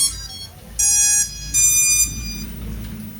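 An SJRC F7S drone fitted with a Blackcell 3S Li-ion battery powers on, giving two loud electronic startup beeps, each about half a second long, over a low steady hum.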